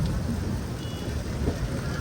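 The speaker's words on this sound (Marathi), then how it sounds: "भरपूर म्हणजे भरपूर पडतो पाऊस बघा" Heavy rain pouring down during a road trip, a dense continuous hiss of drops drumming on surfaces, loud and steady with no talk.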